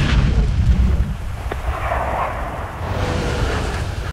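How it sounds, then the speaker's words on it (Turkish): AI-generated explosion effects for a scene of a robot running through blasts: a dense, continuous low rumble with booming bursts and crackle, loud and sustained throughout, no talk. "Şöyle patlamalar içerisinde koşan bir robot."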